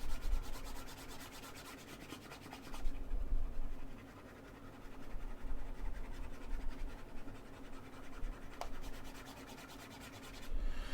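Pen scratching and scribbling out a mailing address on a U.S. priority mail package, a steady close rubbing scrawl that runs continuously with brief pauses and a sharp tap near the end.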